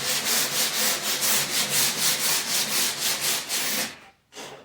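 Hand sanding a wooden picture frame edge with 150 grit sandpaper: close, steady back-and-forth rasping strokes in a quick even rhythm, stopping near the end with a brief final rub.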